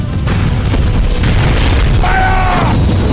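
Crystal cannon fire in Godzilla: Unleashed, a loud continuous booming barrage with bursting pops and a rising tonal whine near the end, close and heavy.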